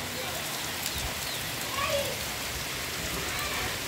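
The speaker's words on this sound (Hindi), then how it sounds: "बारिश चेक करो कितनी स्पीड से बारिश आ रही है" Rain falls steadily in a soft, even hiss, faint and continuous throughout with no other sounds standing out.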